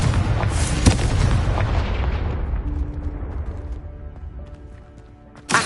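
A Confringo spell blast in Hogwarts Legacy erupts as a loud, close boom with a long rumbling decay that fades over several seconds, before a fresh burst cuts in at the very end.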